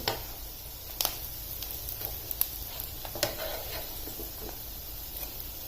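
A puffed rice snack fries in a pan and gets flipped to its other side. A soft, even sizzle runs throughout, with a few sharp clicks and taps from the flipping, and no talk.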